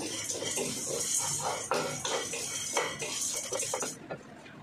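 Roasted curry leaves being transferred into a vessel, metal utensils scraping and clattering against the pan in a busy burst of clinks and scrapes that trails off at the end.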